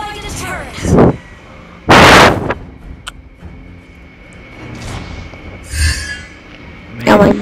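Gunfire in a Mobile Legends-style online video game comes as loud bursts and bangs between quieter stretches, with game effects and voices of players talking over it.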